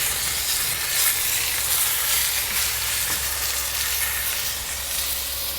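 Tomahawk steaks sizzle on a Kamado Joe Big Joe grill with a strong, steady hiss and crackle of searing fat, close and continuous, with no talking.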